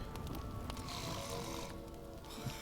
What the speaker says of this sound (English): Who is snoring?